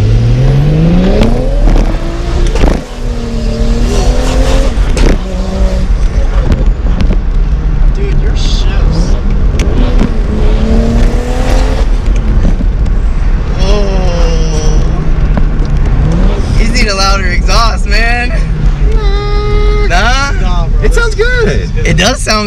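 Tuned 400 hp BMW 335i M Sport engine revving and pulling hard from inside the car, a loud continuous drone rising and falling in pitch, with people talking over it throughout.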